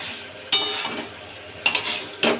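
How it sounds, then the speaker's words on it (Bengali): Mutton and fried potato pieces being stirred in a pan with spiced oil, a steady sizzle broken by three sharp spatula scrapes and clinks against the metal, close and loud. "দিয়ে আবারও ভালোভাবে কষিয়ে নেবো আলুর সাথে মাংসটাকে।"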